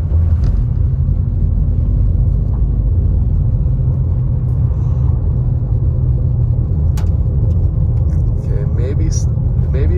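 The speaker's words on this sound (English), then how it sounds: "where that UPS truck is coming our way" A UPS truck drives past on a snowy road in Big Bear Valley, California, a steady loud engine and tyre rumble that holds close throughout, with faint sharper noises near the end.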